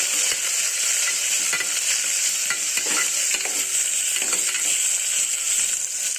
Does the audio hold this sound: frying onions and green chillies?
yes